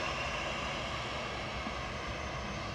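A Ryanair Boeing 737-800 bound for Dublin at Manchester Airport on a still day, a steady, moderate engine rumble from some distance, alone without voices.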